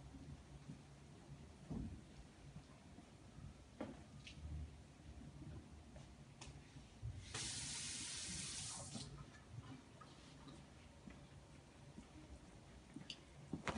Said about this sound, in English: And I'm going to go wash my hands